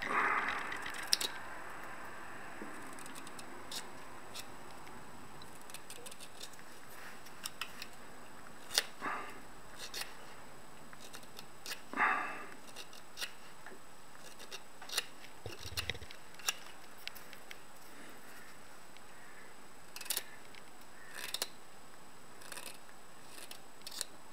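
Scissors make small, sharp, intermittent snips while cutting along a marked line for an uilleann pipes chanter reed, close and quiet over a low background hush.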